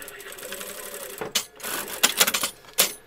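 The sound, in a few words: sewing machine stitching edges of zipped pouch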